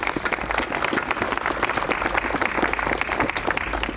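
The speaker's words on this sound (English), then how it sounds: "I think we owe her a big round of applause." Sustained audience applause at a ribbon cutting for a new visitor center and tasting room at the Four Roses Distillery, dense steady clapping from a crowd filling the whole stretch.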